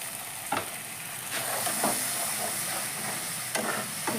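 Cashew paste sizzles loudly in a pan after a drop of water, a dense continuous hiss broken by a few sharp stirring scrapes.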